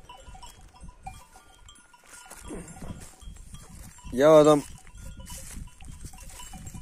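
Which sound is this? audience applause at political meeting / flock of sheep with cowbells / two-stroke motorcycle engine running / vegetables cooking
flock of sheep with cowbells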